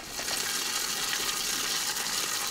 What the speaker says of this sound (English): Going to add a bit of water.